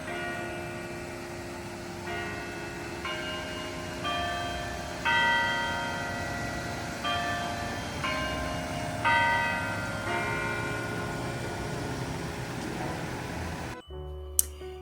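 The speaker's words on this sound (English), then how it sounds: "on the quarter hour, you hear the chimes at the Carillon Tower" Carillon tower bells at Longwood Gardens chime a slow melodic quarter-hour sequence of ringing tones, moderately distant, over a soft outdoor hiss, ending with an abrupt cut.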